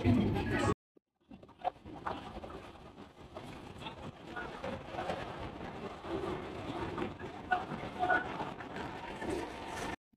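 A passenger train running late rolls on its rails into Mecheda station, giving a steady, close rumble with wind buffeting after a brief cutout near the start. Voices are faintly present.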